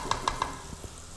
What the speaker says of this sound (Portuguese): Mais uma mexida aqui nesse refogado que está encantador